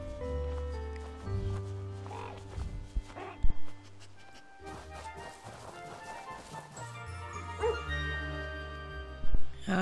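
A dog companion in Disney Dreamlight Valley gives a few short barks and yips over soft, tonal game music, with scattered brief outbursts rising above the melody.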